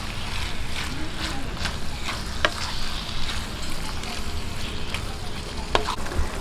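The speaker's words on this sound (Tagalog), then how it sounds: "gisa-gisahin lang po natin hanggang sa mag light brown yung ating giniling" Ground meat sautéing for picadillo in a pan, a steady close sizzle throughout with occasional scraping stirs and clinks.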